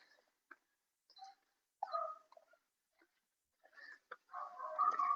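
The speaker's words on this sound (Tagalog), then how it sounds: "May manok din sila" Chickens in a rural yard near Antipolo, Rizal, give scattered short clucks and calls, with gaps between them and a denser burst of clucking at the end.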